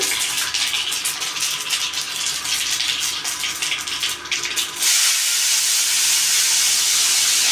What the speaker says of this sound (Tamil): கடுகு வெடிச்சாச்சு